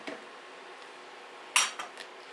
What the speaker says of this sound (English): look, they just scrape right out